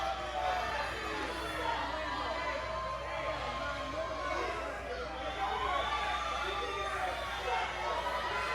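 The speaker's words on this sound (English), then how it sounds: "The crowd is riled up." A riled-up wrestling crowd at an indoor independent show, with a constant roar of cheering and chatter that fills the whole stretch and carries a commentator's voice over it.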